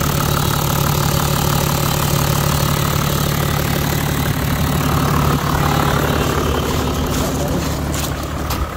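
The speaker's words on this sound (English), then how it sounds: "still a lot of noise coming off with the injector pump." Toyota Land Cruiser diesel engine idling with a loud, steady clatter from a noisy injector pump, heard close and continuous throughout.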